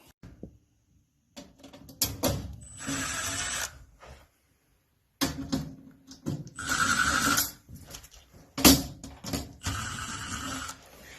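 Sheet metal screws are backed out of a tanning bed with a power driver in several bursts of whirring and ratcheting, separated by quiet gaps, close and moderately loud.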